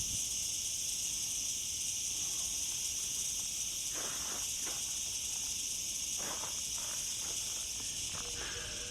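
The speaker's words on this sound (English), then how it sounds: "the cicadas roar in the olive grove within the gallery's grounds" Cicadas in an olive grove on gallery grounds in Andalusia give off a constant, shrill, high whine that fills the air, with soft rustling and scattered light taps underneath.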